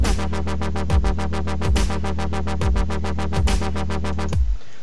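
A dubstep wobble bass patch built in NI Massive pulses in a fast, steady rhythmic wobble with periodic heavier hits; loud and dry with no effects, alone, then stopping abruptly near the end.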